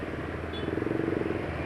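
A rough-running engine freshly filled with Caltex Delo Sport 15W40 oil gives a faint, close rumble with a quick, even pulsing knock through a short stretch.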